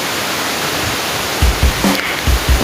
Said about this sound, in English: This is the waterfalls.